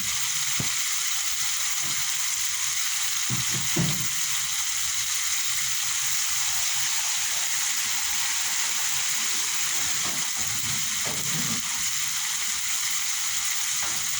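Food boiling in a pot, a continuous bubbling hiss and sizzle with occasional soft clinks and stirring sounds, steady and close.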